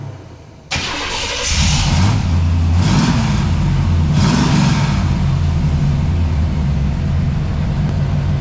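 A square-body Chevrolet Suburban cranks and fires up close, then its V8 roars through several loud revs before settling into a rough, rumbling idle, with no voices.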